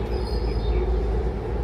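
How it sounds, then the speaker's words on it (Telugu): A train passing close to a small garden, a loud, continuous low rumble of rolling wagons with a thin metallic wheel squeal riding on top. "ఇదిగోండి ట్రైన్"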